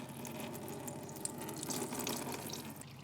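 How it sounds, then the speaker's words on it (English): Gear oil drains from a 17 mm plug under an all-wheel-drive Type R with a billion-dollar transfer case, making a faint, steady trickling pour that stays constant throughout with no talk. "let's pull the plug, get it drained out"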